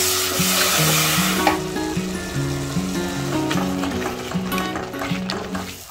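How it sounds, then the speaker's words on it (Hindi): Tomato paste with masala spices sizzling and frying in oil in a pan, a steady close crackle with stirring scrapes, while soft background music plays throughout. "तो देखिए टमाटर अच्छे से फ्राई हो गया है ना"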